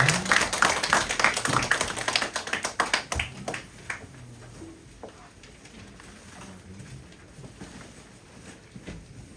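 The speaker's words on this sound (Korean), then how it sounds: "우리가 박수로 함께 영광 돌리겠습니다" A burst of scattered hand clapping from a church youth congregation, loud at first then thinning out into sparse claps and quiet room noise.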